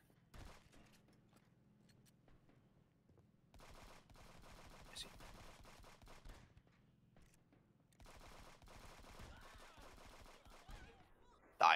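Gunfire in the video game Friends vs. Friends, quiet and fairly distant: bursts of rapid automatic shots in clusters separated by pauses, ending in a sharp loud crack.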